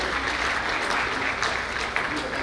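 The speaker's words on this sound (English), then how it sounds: "Big round of applause for each one of you." Steady applause from an audience filling a hall at a conference opening ceremony, dense and continuous clapping at even loudness throughout.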